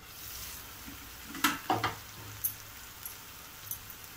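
Mutton chukka being stirred in a pan: a soft, low sizzle underneath a few distinct scraping stir strokes in a quick cluster, then lighter taps, fairly quiet and with no voices.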